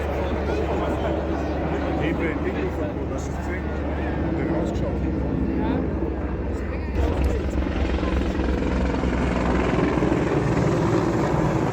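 A military helicopter powered by General Electric T64 turboshaft engines runs at an equipment display, a steady loud rotor and turbine drone throughout with a person talking over it.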